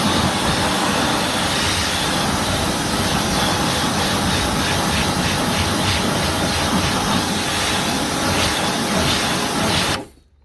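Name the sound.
pressure washer rinsing a car wheel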